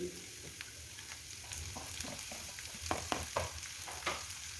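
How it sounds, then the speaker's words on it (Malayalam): Green chillies fry and get stirred in a pan while making puli inji (tamarind ginger curry), with a soft steady sizzle and intermittent scraping stir strokes, close and fairly quiet. "ഇനി പച്ചമുളക് ഇട്ട് കൊടുത്തിട്ട് നല്ലപോലെ തന്നെ ഇളക്കി കൊടുത്തിട്ടൊന്ന് മൂപ്പിച്ചെടുക്കാം"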